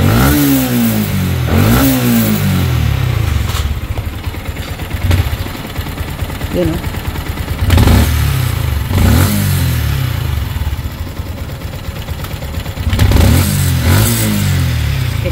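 A Yamaha Sniper 155 motorcycle, overdue for maintenance, runs close by with a rough idle, broken by several throttle blips that rise and fall at irregular intervals, while someone speaks briefly.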